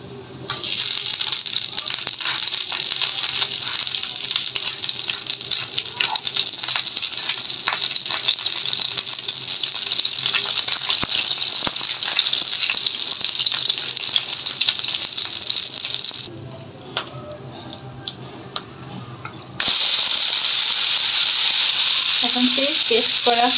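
Black cumin seeds crackle and sizzle in a generous pour of hot mustard oil, a steady loud frying hiss that runs continuously, briefly drops away, then surges back.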